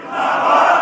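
A crowd at a Sikh martyrdom commemoration for Bhai Hardeep Singh Nijjar chants a Khalistan slogan: one loud, sustained collective shout from many voices that swells and holds.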